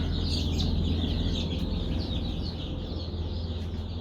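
Young chicks in a hatchery setting, with a dense, fairly faint chorus of high cheeping and peeping over a steady low hum, continuous and without talk.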